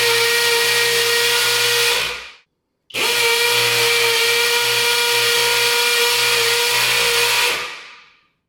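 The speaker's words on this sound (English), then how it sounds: "let's take a look at how each of these hammer drills perform in concrete" Hammer drill boring into a concrete block, Makita versus Flex; a loud, close, steady whining grind runs about two seconds, stops briefly, then resumes for nearly five more before cutting off.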